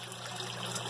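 Water runs steadily through a homemade overflow siphon from one barrel into another, a continuous close trickling gush with no pauses.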